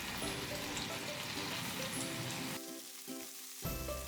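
A chicken steak pan-fries skin-side down under a pressed pot for crispy scallion-oil chicken, giving a close, steady hiss of sizzling fat that briefly drops and thins before swelling back up at the end.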